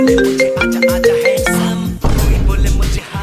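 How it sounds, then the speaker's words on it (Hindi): A phone ringtone plays loudly and close in a rhythmic run of bright electronic tones, then changes to a denser, buzzier stretch of music. "किसका फोन है? अरे वो ना मेरे फ्रेंड का कॉल है।"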